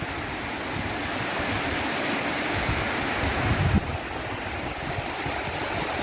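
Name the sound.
waterfall flowing down from hilltop in forest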